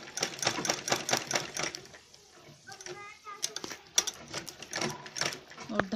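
A sewing machine runs a straight seam on a designer bag with a zip pocket, giving rapid rhythmic stitching bursts that pause briefly midway and then resume, with a voice talking over parts of it.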